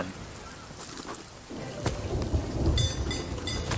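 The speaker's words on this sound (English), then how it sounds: "Stupid storm." Thunderstorm in the pirate video game Sea of Thieves: steady rain hiss with rumbling thunder and sharp cracks, loud and close, with a brief quieter lull before the storm swells again.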